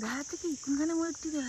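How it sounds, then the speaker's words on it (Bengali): Crickets in a forest keep up a continuous high, shrill trill, steady and fairly close, while someone speaks over it. "ঝিঝি পোকার ডাক"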